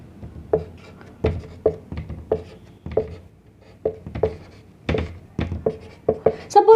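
A marker or chalk writing a sequence on a board during a biology lecture, with a string of short taps and strokes in an irregular rhythm, close and fairly clear, while a teacher speaks now and then.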